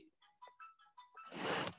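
A phone ringtone plays a short series of electronic melodic tones, then gives way to a burst of broadband noise at the end, fairly faint and with no speech.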